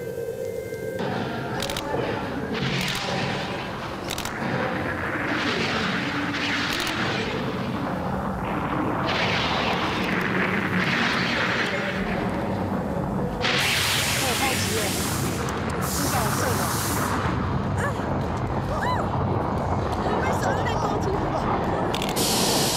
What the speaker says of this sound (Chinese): 爆炸、烟雾特效以及布幕搭配震动地板等设施营造出的战场环境